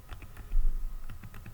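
Arrow keys on a computer keyboard, used to nudge a model railway control slider, give a run of light, close, irregular taps with no talk.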